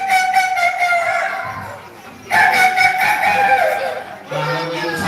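A rooster crows at dawn in repeated long, strained calls, fairly close and loud, with other crowing or cackling overlapping in the background.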